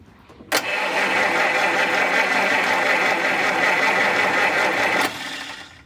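Classic car engine cranking over on the starter, a steady, continuous whirring drone lasting about four and a half seconds, close and loud, starting and stopping abruptly.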